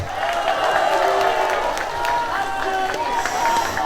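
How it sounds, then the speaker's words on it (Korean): Concert audience at the 2025 Geumjeong Sanseong festival in Busan applauding and cheering for a guest singer, a dense, continuous crowd roar with clapping, and no one speaking over it. "박수 부탁드리겠습니다."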